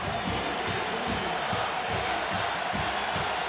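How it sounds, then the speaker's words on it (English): Football crowd roaring at Neyland Stadium during a Georgia versus Tennessee game in 2009, a dense, steady wall of cheering and shouting that holds loud and constant throughout with no break. "the crowd making a lot of noise here at Neyland Stadium"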